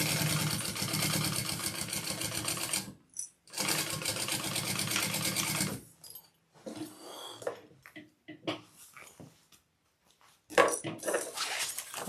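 A sewing machine stitching a seam on a Brivet backpack runs in steady whirring bursts, then stops and gives way to short stitches and quiet handling noises, close by.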